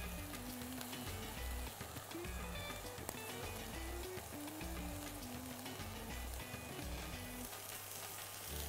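Onions and colored peppers fry in a pan with a steady, close crackling sizzle that runs continuously, while soft background music plays underneath.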